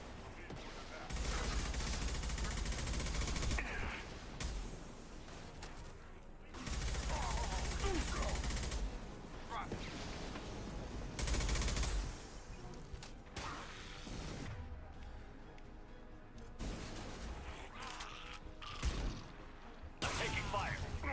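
Gunfire and combat in the Mass Effect video game, dense sustained bursts of shots with crashes, whooshes and mechanical noises, loud and continuous with occasional talk.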